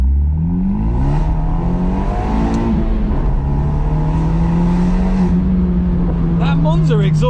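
An Abarth 124 Spider fitted with a Monza exhaust accelerates hard, its raspy engine note steady and close. A rev climbs near the end, and someone talks over the engine throughout.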